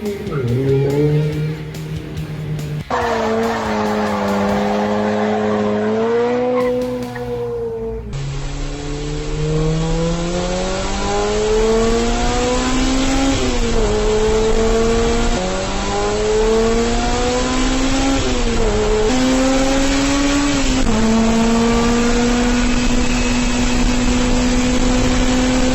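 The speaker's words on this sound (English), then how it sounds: "take the engine from a Honda Civic Type-R, a VTEC unit, tuned, breathed on, encouraged" A tuned Honda Civic Type-R VTEC engine, fitted in a 1972 Mini van, revs hard and repeatedly, its pitch climbing and dropping through sustained loud, close runs with no talking.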